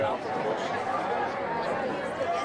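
A large crowd at a high school lacrosse semifinal between Brophy and Higley, a steady wash of chatter and hubbub that holds at an even, fairly loud level, with voices blending into a continuous murmur.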